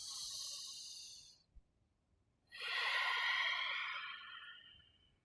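Slow, deep breathing during a yoga stretch: a long airy exhale, a pause of near silence with a faint click, then a fuller, hissing breath that fades out, close and soft.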